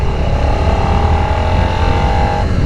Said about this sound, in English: let's listen to a sing